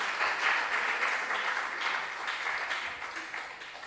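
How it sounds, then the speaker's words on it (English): An audience claps for contestants at a junior science and maths quiz regional qualifier in the Ashanti Region, a steady wash of applause that is moderately loud at first and slowly tapers off. "Those of you in the audience who are not clapping, you have to clap."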